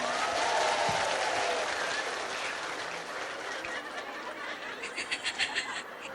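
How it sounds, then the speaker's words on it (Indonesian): Dense applause from a crowd at an Islamic religious gathering, loud at first and then gradually thinning, with a few scattered claps and faint laughter near the end. "Tepuk tangan dulu dong"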